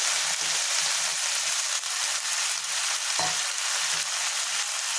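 Fenugreek leaves and tomatoes frying in a pan for tomato methi chutney, a constant close sizzle with light scraping stirs and one brief clatter partway through.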